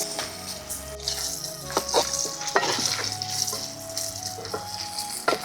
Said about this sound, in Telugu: ఇప్పుడు మనం వేపి పెట్టిన ముక్కలు ఉన్నాయి కదా, అవి నూనెలో వేసుకుందాం